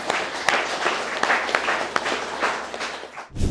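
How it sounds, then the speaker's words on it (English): An audience claps in a round of applause at a career celebration event, a dense steady patter of hands that fades out near the end, with no talk over it. "one big round of applause"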